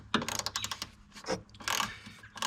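A ratchet undoes bolts while shock absorbers are removed from a Firsta ST scooter, giving quick bursts of close metallic clicking that stop and restart several times, with no talking.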